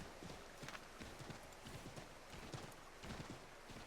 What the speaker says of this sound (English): let me get back on my horse